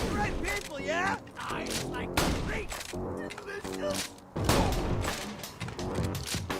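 Rapid shotgun blasts in Borderlands, fired repeatedly at close range into an enemy, sounding as loud booming bursts in quick irregular succession with brief gaps, mixed with game clatter and a voice talking over them.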